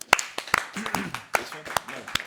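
Single sharp hand claps sound close by at irregular intervals, several distinct slaps spread across a casual conversation, with people talking between and over them.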